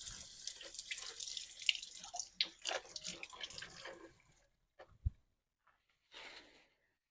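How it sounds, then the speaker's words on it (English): Tap water runs steadily into a sink while hands are rinsed, a continuous splashing hiss that breaks off into a few separate drips and clunks before a short final burst of flow. "let me rinse my hands off"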